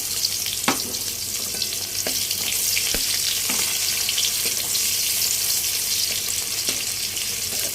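Chopped onion fries in mustard oil for a restaurant-style chicken gravy, a bright continuous sizzle up close with occasional spoon clicks and stirring scrapes.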